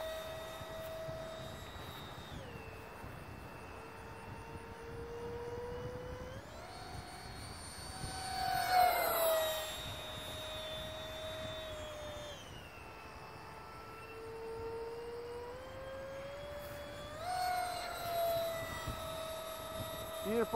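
A small jet engine on a model F-14 plane whines in a steady high pitch, swelling and dipping as it makes a low pass, with a brief louder rush midway and again near the end.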